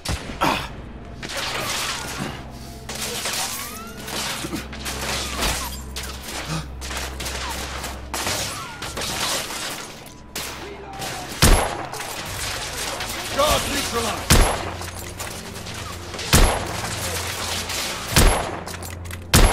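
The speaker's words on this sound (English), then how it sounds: "I'm under heavy fire!" Dense gunfire in the video game The Order: 1886, with sustained rattling automatic fire and sharp, loud individual shots that grow more frequent toward the end, the battle noise continuous throughout.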